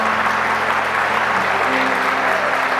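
A church congregation applauds together in a steady wash of clapping, continuous and fairly loud, with a low sustained hum running underneath.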